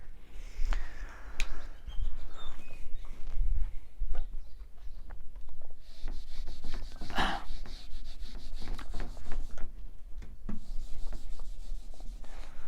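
Board being rubbed clean in a classroom, a steady scraping swish repeated continuously and close, with no talking over it.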